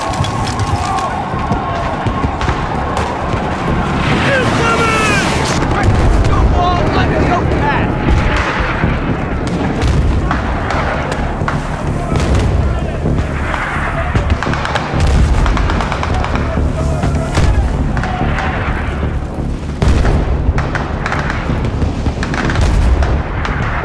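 Mortar fire and explosions in a Battlefield 3 battle, with repeated heavy booms and gunfire under a constant loud din, close and chaotic, while voices shout throughout.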